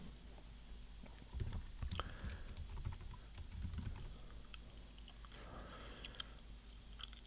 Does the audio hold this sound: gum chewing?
yes